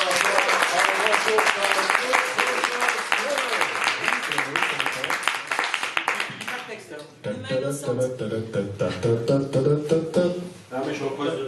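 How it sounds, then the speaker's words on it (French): An audience at a slam poetry night in Vence applauds a performer named Anne, loud clapping for several seconds that gives way to chatter and voices. "Applaudissez à Anne, s'il vous plaît."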